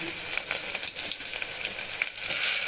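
Onion, garlic and curry leaves fry in hot oil with mustard seeds and fenugreek for a spicy tamarind curry, a steady close sizzle with light stirring scrapes throughout.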